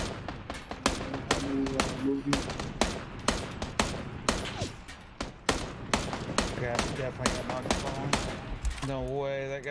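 Rapid bursts of gunfire in a Counter-Strike match, dense overlapping shots and short automatic volleys, loud and close, with a voice talking over part of it.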